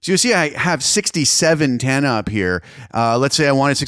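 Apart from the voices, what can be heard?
No everyday noises stand out.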